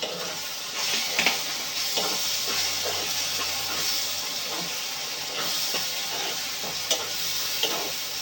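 Tomato puree sizzles in a hot pan for egg junnu curry, a steady, close hiss and crackle with small spits and pops scattered throughout.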